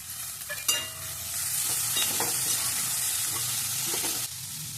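Finely chopped tomato sautés with green chilli, garam masala and coriander-cumin powder in a hot pan for moong dal khichdi, giving a steady close sizzle and frying hiss that gets louder as the tomato goes in, with a few stirring scrapes.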